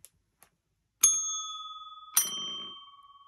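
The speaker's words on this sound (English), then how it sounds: "We ring the bells" A small metal bell is struck twice, each strike giving a bright ding that rings on and slowly decays, after two faint light taps at the start.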